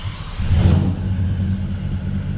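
A diesel Toyota Land Cruiser with a multi-map tune idles steadily up close, a loud, deep rumble that swells briefly before settling into an even drone.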